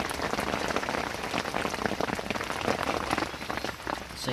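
Heavy rain pours down steadily on a lakeside carp-fishing spot, a dense crackling patter of drops striking surfaces with no let-up and no voices over it.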